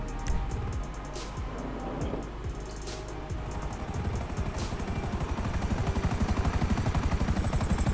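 The Akula armed scout helicopter in GTA 5 flies with a loud rotor whir that grows into a steady rhythmic thumping, mixed with game sound effects and occasional mechanical clanks.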